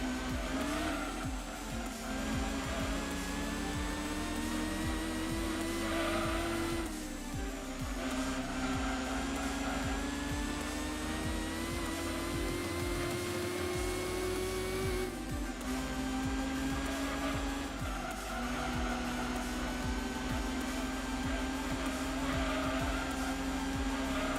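A race car engine in Gran Turismo 2 screams at very high revs, climbing in long rising sweeps with brief drops at gear shifts, loud and continuous for the whole stretch.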